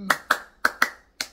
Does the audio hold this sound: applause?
yes